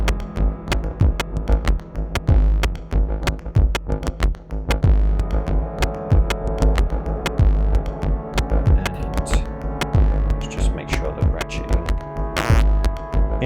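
Ratcheting electronic percussion from a Neutral Labs Elmyra 2 synthesizer, rapid repeated clicks and thumping hits in a looping rhythm over a humming, droning tone, steady and fairly loud.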